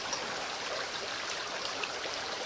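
A creek on an Idaho back road flows steadily with a soft, even rush and faint trickles, quiet and continuous with no voices.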